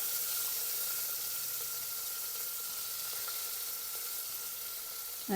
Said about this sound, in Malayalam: ഇപ്പം കടുക് അങ്ങോട്ട് പൊട്ടുമ്പോൾ നമ്മുടെ കറിവേപ്പിലയും സവോള അരിഞ്ഞതും ചെറിയ ഉള്ളിയും ഒക്കെ അങ്ങോട്ട് ഇട്ട് കൊടുക്കാം